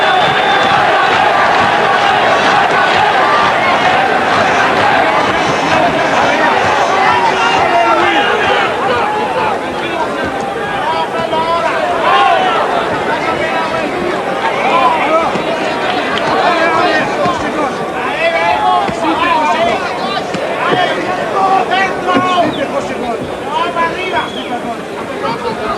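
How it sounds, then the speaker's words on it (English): Crowd at an IBF junior middleweight boxing bout rallying behind fighter Louis Acaries, a steady roar of cheering and chatter in a large arena, with a commentator's voice running over it throughout. "Now the crowd looking to get behind Acaries."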